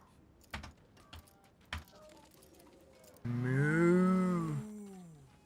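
A cow moos in Diablo 4: one long, loud, tonal bellow that rises and then falls, following a few quiet clicks and soft game sounds.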